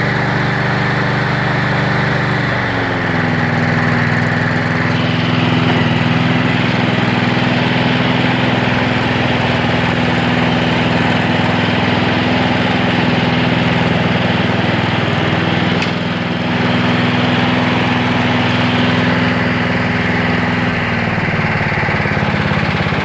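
A nearby Weibang WB537SCV lawn mower engine at reduced speed drones steadily, its pitch dropping slightly early on and again near the end as it slows.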